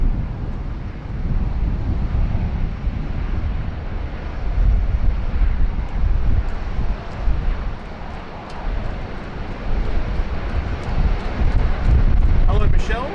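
A Velocity airliner lines up on runway 16 right at Sydney Airport, giving a loud, steady jet roar mixed with heavy wind rumble outdoors, and a voice talks over it.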